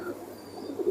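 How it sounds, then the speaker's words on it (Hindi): An old pigeon, a Kamagar, Teedy or Sialkoti breed kept in Gharani, Jammu and Kashmir, gives a soft, low cooing that swells near the end, close by over faint background noise. "ये देखो बूढ़ा हो गया कबूतर"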